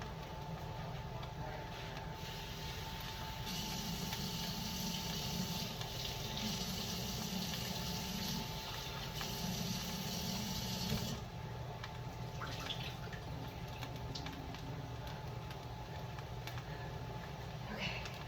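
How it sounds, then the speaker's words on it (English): Running tap water pours steadily into a cooking pot being rinsed in a sink, a continuous close splashing rush that shifts in tone as the pot fills, with a voice faintly underneath. "I'm going to rinse this out a little bit."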